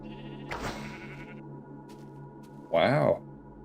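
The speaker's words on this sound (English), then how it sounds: "you guys want to watch me 360 no scope shear sheep?" Sheep being sheared in Minecraft Alpha give two short, nasal bleats, a softer one followed by a louder one, heard close with no one talking.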